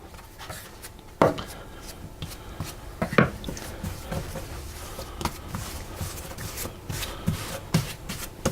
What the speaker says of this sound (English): So we start off by turning it over to coat it with flour.